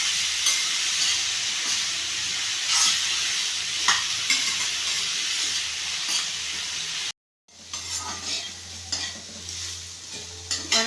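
Bitter gourd sautés in a kadai with a steady, close sizzle and repeated scraping stirs. The sound cuts out briefly and then returns with busier stirring, and nobody talks.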